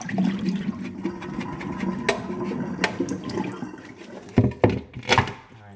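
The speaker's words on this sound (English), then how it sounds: "I am going to use a salad spinner. So we'll shake out the water here." Soaked potato pieces being dried in a salad spinner for air fryer curly fries give off uneven watery sloshes, rattles and knocks, with several sharper clacks and splashes near the end, close and fairly loud.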